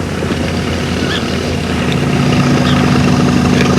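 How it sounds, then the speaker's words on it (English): A rancher's motorbike engine idles steadily at close range, putting out a constant low hum on open land where horses are being rounded up, with no speech heard. "the rancher finds it most convenient to ride out to round up his horses on a motorbike"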